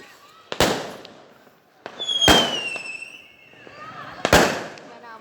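Village fireworks go off in three sharp, loud bursts spaced a couple of seconds apart, each followed by crackling and whistling trails, with people talking quietly in between.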